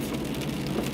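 Steady autumn rain patters on an uphill road, a dense continuous hiss of drops with no voices and no distinct breaks.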